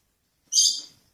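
A single short, high chirp from a lovebird, close and clear against silence.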